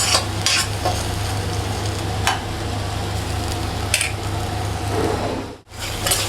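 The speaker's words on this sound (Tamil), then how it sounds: "கொஞ்சம் வதங்கட்டும்." Vegetables for pav bhaji sauté loudly in a pan, a continuous close sizzle with a low steady hum beneath and a few scraping strokes of the spatula, briefly cutting out near the end.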